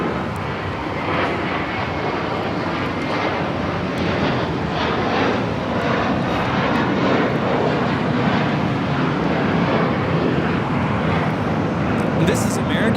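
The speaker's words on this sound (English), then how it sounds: "This is American Airlines 238 taking off to JFK on the A321" An American Airlines A321 roars down the runway at LAX on takeoff for JFK, a sustained broadband jet rumble that stays loud and fairly close throughout, with faint talk in the background.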